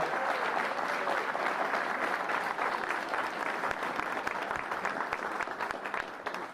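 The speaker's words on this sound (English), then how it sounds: "give a huge round of applause for the DeBerry family" Sustained applause from a large crowd at a new elementary school's dedication ceremony in Springfield, dense steady clapping that fills the space and holds strong throughout before easing slightly at the end.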